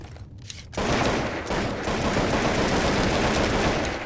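Rapid gunfire from a semi-automatic Mutant gun in the Zed Zone video game erupts after a brief lull, a dense, loud, continuous volley of shots lasting several seconds.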